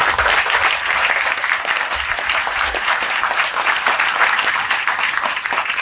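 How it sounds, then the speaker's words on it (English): A groundbreaking-ceremony audience applauds the speakers, with dense, steady clapping that holds at full strength for about six seconds and carries no voices over it. "How about a round of applause for all the speakers?"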